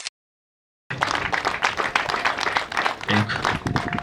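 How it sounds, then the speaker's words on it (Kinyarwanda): Wedding guests break into sustained applause after a brief silence, steady clapping filling the room and continuing to the end. "amashyi menshi cyane"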